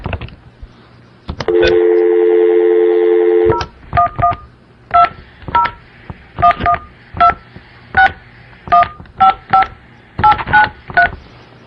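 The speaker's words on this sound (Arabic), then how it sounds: "قولوا لشيخكم يجيب التليفون" Telephone keypad dialing tones: a long steady dial tone for about two seconds, then a run of roughly a dozen short, evenly spaced DTMF beeps, loud and clear with no voices.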